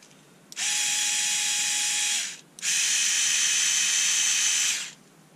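A Panasonic EY503 cordless screwdriver struggling to drive screws whirs in two sustained, loud bursts of about two seconds each, with a brief stop between them and no talking.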